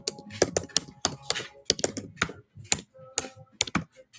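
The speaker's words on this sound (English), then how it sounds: "And I'll type it." Rapid clacking on a computer keyboard, irregular bursts of keystrokes with short gaps, close and fairly loud, with no talk.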